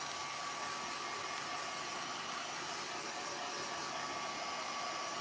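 A hair dryer blows in a steady, unbroken whoosh with a faint whine, held close while drying a laser-printed craft piece; no voices.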